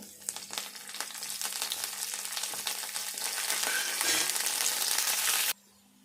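Onions, curry leaves and coriander fry in a pan, giving a close, steady crackling sizzle that grows slightly denser before cutting off near the end.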